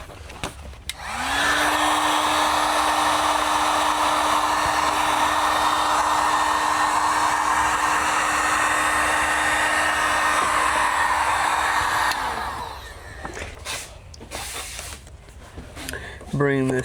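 Heat gun warming a vinyl door skin on a rear door of a 2019–2025 Toyota RAV4, a loud steady blowing whine running close and unbroken for about eleven seconds, then cutting off into handling noises.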